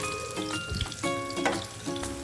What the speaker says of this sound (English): Sauté sliced garlic, shallots, and chili. Stir fry them until fragrant.